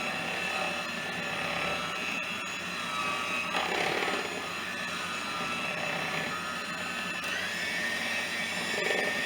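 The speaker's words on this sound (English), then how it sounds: "Makes a lot of noise, the mixer does." An electric kitchen mixer beats cream cheese on its high setting, giving a loud, continuous whirring drone that holds steady throughout with slight wavering in pitch.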